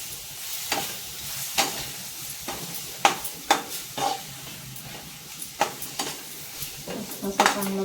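A spoon scrapes and knocks against a pan as a rava and besan barfi mixture is stirred and roasted, with sharp irregular clinks over a steady soft sizzling hiss, close up.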